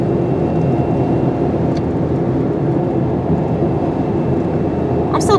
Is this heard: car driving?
yes